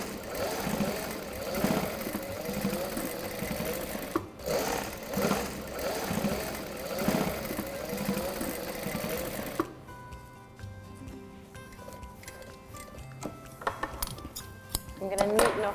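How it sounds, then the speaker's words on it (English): A sewing machine stitches close along the edge of a cushion's fabric frill, its rapid mechanical whirring running in short bursts and pauses, followed by quieter clinks and handling noises near the end. "you just sew really close to the edge, ready to attach it so that it's pre-frilled"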